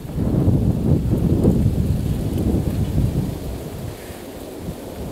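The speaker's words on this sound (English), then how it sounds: "Let me wait till this breeze blows over." Wind gusts buffet a microphone outdoors on a warm, sunny winter day in Michigan, a steady, loud low rumble that eases slightly toward the end, with no voices.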